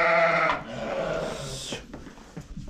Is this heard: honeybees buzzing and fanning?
no